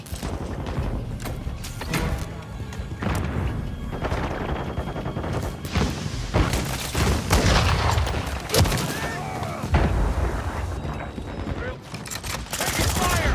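Gunfire rattles through a Call of Duty battle on an airplane graveyard map, bursts of shots and crashing impacts in a dense, steady din, with game voices calling out over the fighting.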